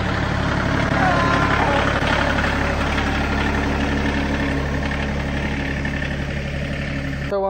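A tractor engine idles steadily and close by, a continuous low, even rumble with a constant mechanical pulse running unchanged for several seconds.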